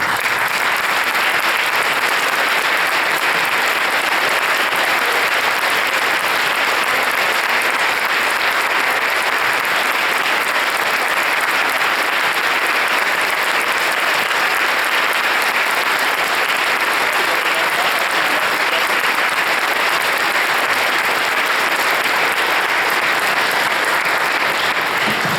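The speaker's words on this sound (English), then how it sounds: "we'd like to just give you applause too" Prolonged applause from a school audience at a middle school Veterans Day program, a dense, even roar of clapping that stays loud and unbroken for over twenty seconds.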